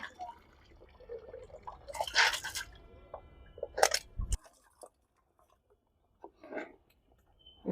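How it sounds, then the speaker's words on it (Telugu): Freshly dug turmeric roots are swished and rubbed in water, giving wet splashing and crunchy scraping in bursts, loud at first and then sparse drips and light handling toward the end. "ఇలా వాటర్లో వేసేసి ఒకసారి శుభ్రం చేస్తామండి."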